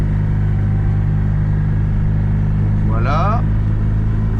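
A Microcar Dué Must license-free car hums steadily from the cabin as it drives, a constant low engine and road rumble throughout, with a brief spoken word from the driver near the end.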